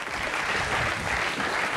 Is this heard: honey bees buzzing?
no